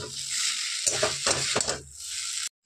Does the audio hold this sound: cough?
no